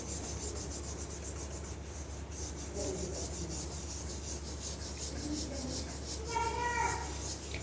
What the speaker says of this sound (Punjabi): ਬਸ ਆਪਾਂ ਬ੍ਰਸ਼ ਦੀ ਮਦਦ ਦੇ ਨਾਲ ਆਪਾਂ ਇਹਨੂੰ ਸਾਫ਼ ਕਰਦੇ ਜਾਵਾਂਗੇ